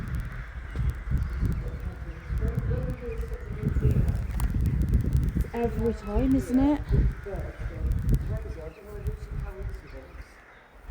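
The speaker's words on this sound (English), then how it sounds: "Something happens in here, these birds go crazy." Crows caw repeatedly and excitedly outside an abandoned church, harsh calls overlapping, while a person speaks briefly nearby amid outdoor rustle.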